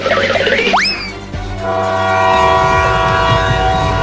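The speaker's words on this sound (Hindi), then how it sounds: "अरे देखो ट्रेन चलने लगा" A cartoon train pulling out of a station: a rising whistle blast leads into a loud, steady rumble and a humming engine drone, close and continuous, with no talk.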